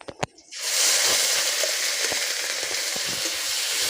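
Onion paste dropped into hot oil for prawn malaicurry bursts into a loud, continuous sizzle after a couple of sharp clacks, the frying hiss staying steady and close.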